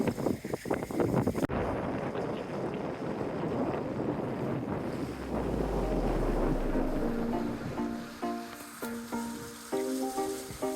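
A sailing yacht leaves a harbour in Antigua in strong wind. Loud gusts buffet the microphone throughout, over a rushing wash of water and hull noise, with a few clanking rattles from the boat's gear near the end.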